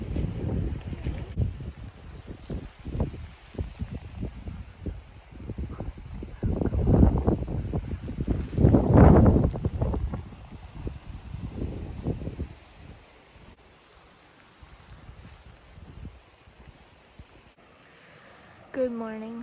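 Cold wind gusts and buffets the microphone outdoors in the Montana wilderness, swelling to loud rumbling bursts in the middle before easing to a softer, steady rush.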